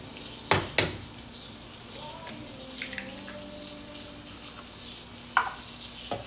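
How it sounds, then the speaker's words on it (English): Egg poaching in simmering Mountain Dew in a pan, a soft steady sizzle and bubble running throughout, broken by a few sharp clinks of utensils against the pan near the start and again toward the end. "Oh shit, this shit's simmering."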